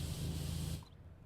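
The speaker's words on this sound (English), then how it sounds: "I'm just spraying everything." A spray bottle lets out one continuous hissing burst that cuts off abruptly just before the end, close and alone.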